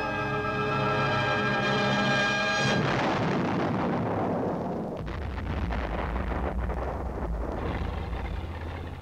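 Loud artillery fire from a basic training exercise south of Saigon, Vietnam, rolling out as a sustained heavy boom and rumble that fades into a long, noisy low-frequency tail with wind buffeting.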